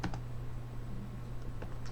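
Keys clatter on a computer keyboard as a cell address is typed into a spreadsheet formula, a few quick, light clicks scattered over a steady low hum, with no one speaking.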